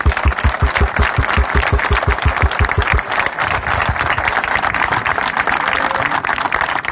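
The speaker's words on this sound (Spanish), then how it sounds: "me gustaría hacer un fuerte aplauso" A crowd applauds at a seniors' football championship event in La Pedrera, Argentina, dense loud clapping throughout, with rhythmic low thumps in the first few seconds before the clapping settles into a steady roar.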